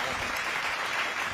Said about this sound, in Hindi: अगर आप लोग भरपूर तालियां बीच बीच में देते रहोगे